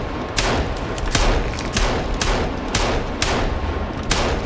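Rapid gunshots in the survival game Sons of the Forest, a string of sharp, loud cracks fired in quick irregular bursts, close and dry with no voices.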